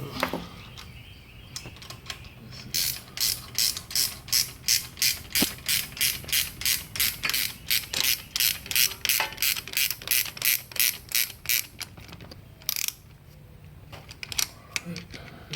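A ratchet wrench cranks down nuts on twin-stick shifters of a 1966 Ford Bronco during restoration, giving a long run of rapid, even, close-up clicks after a few slower ones, then a short final burst.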